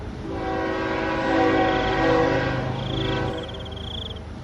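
A train closes in along a railway track, its loud horn blaring in long sustained tones that swell and briefly break, over a rumbling, rolling rail noise.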